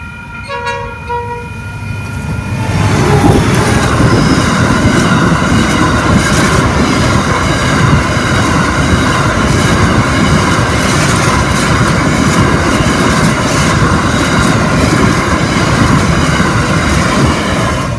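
A freight cement train led by locomotive 8130 passes close and loud near Port Kembla in New South Wales, its horn sounding at the start before a long, steady roar of rolling wagons.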